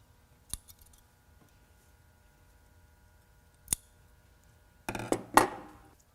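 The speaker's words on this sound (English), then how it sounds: "I'm going to just cut off all the extra threads" Scissors snip loose threads from a homemade T-shirt face mask: a few isolated sharp cuts, then a denser cluster of close, crisp snips and clinks near the end.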